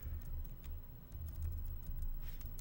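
Typing on a computer keyboard while creating form letters in Word, a close run of soft, quick key clicks with a low background hum.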